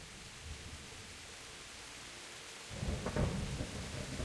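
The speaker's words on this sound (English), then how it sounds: "This rain is cold." Rain pours steadily in Kingdom Come: Deliverance, a constant hiss with no voices, until a low thunder rumble swells in near the end and rolls on loudly.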